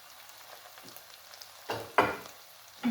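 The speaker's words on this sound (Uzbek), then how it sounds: "Yana qattiq qovurib olaylik." Dried hot chili pepper is stirred and fried in a pan for an Uzbek dish, a soft, steady sizzle with a few louder scraping and stirring bursts close by.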